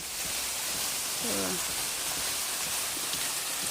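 Mango blossoms shaken from a Devgad Hapus mango tree, falling in a dense, continuous rain-like rustling hiss, with a brief voice sounding partway through.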